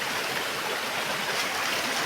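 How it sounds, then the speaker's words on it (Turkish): Water falling from a height at the Karapınar waterfall on Murat Dağı, a dense, steady rushing roar that is close and loud with no pauses. "Yani şelale dedim yani yüksekten akan su."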